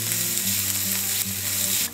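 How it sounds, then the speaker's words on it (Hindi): Finely chopped onions sauté in a pan while a Restaurant Style Paneer Tikka dish is being made, giving a steady, close sizzle and crackle that runs for the full clip without any talking. "इसे हम जब तक ये हल्के सॉफ्ट ना हो जाएं तब तक भून लेते हैं।"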